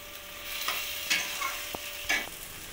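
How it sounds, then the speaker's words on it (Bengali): Bombay duck fish crumble stirred and frying dry in a pan, with a soft steady sizzle broken by a few scraping spatula strokes and light clicks, close and alone without talk. "লোটে মাছটা এখনও আমি নাড়াচাড়া করে নেব, এখনও শক্ত শক্ত আছে"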